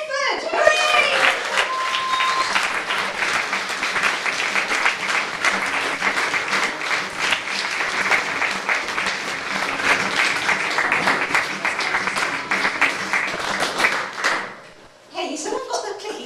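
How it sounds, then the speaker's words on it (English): A comedy-club audience at Bright Club gives a loud, sustained round of applause as a comedian takes the stage, with dense clapping filling about fourteen seconds before it drops off sharply near the end. "Please give a huge, bright club round of applause for Kathryn Bedford!"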